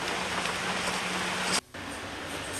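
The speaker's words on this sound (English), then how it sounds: "it's raining outside" Steady rain falls outside as a dense, even hiss that fills the whole clip, with a brief dropout near the middle before the wash of rain resumes.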